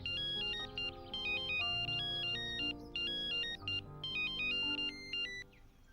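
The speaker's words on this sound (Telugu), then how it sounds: "వాడు ఫోన్ రింగ్ అవుతుందే" A mobile phone ringtone plays a bright, repeating electronic melody in short looping phrases for several seconds, fairly quiet and with no voices over it.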